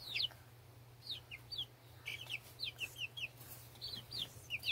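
Chickens, grown past the fluffy chick stage and jumping on each other, cluck and squawk in a quick irregular series of short calls over a steady low hum, fairly close and moderately loud.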